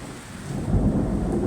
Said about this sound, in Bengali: আল্লাহ রব্বুল আলামিন রহমতের বৃষ্টি দিচ্ছে। প্রচুর বজ্রপাত হচ্ছে।